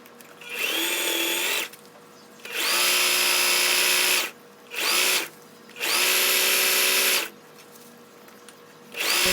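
A sewing machine runs in short, loud bursts while stitching straight seams on homemade biker shorts: a high motor whine that starts and stops about four times, with brief quiet pauses between runs.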